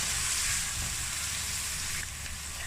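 Three small tomatoes hit hot oil with frying garlic and ginger, making a steady, fairly soft, close sizzle that eases slightly toward the end, with no talk.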